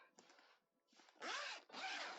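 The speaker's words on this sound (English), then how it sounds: "How does the outer zipper feel? Outer zipper feels a little bit better." Zipper on a craft storage bag with an outer zipper pocket, pulled in several quick close rasping strokes, the last two longer and louder.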